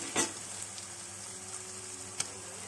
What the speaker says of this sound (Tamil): நல்லா வந்து எண்ணெயோட நல்லா வதக்கி விட்டுடலாம்